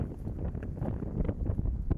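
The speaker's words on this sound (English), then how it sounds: "it's windy. I think this storm is rolling in." Gusty wind ahead of an incoming storm on a golf course in Wellton, Arizona buffets the microphone in uneven, rumbling bursts, with faint rustling under the low thumps; no voices.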